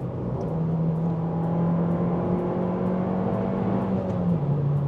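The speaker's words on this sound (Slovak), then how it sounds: "predošlý majiteľ tohto auta sa rozhodol, že to ešte trošku okorení a priplatí tu výfuk Akrapovič" Abarth hatchback fitted with an optional Akrapovič exhaust, its engine droning at a steady rev with a slight rise and fall in pitch, loud and close, with no speech.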